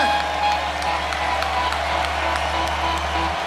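An arena concert crowd in Philadelphia's Wachovia Spectrum claps and cheers in a steady, dense wash of applause filling the hall, with a low constant hum underneath.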